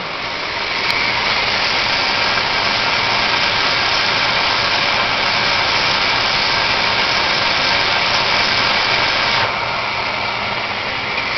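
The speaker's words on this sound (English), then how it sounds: "Let's thread the wire by machine." AgieCut 120 wire EDM machine automatically threading its wire, a steady loud mechanical hum and hiss with a faint ticking, constant throughout without talk.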